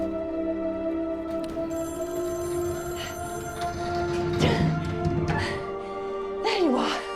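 A telephone rings through a scene from the Loki series episode "Ouroboros", its steady electronic tone sustained throughout, with other show sounds and a voice sweeping in near the end.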